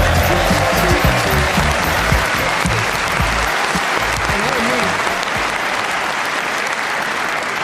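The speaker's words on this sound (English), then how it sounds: "One of you was clapping out of time." A comedy show audience claps along in a dense, steady wash of applause, with voices and some musical sound underneath, tapering slightly toward the end.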